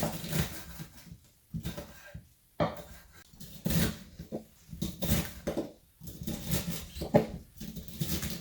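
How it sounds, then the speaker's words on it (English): A knife chops callaloo on a cutting board in uneven clusters of close, dull taps and knocks separated by brief pauses, moderately loud with no talking. "you just get your knife and you just start to cut"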